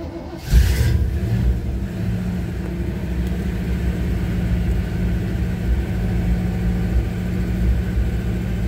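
A 1962 Chevy Impala's carbureted engine catches abruptly and settles into a loud, steady, close rumble that swells slightly as it revs.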